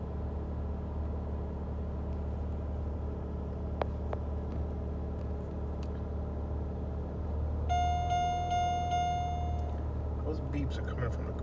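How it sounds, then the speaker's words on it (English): A car fitted with a Progressive Snapshot device gives a single sustained electronic beep over a low idling engine hum after being switched on, with a brief rattle afterward. "Those beeps are coming from the car."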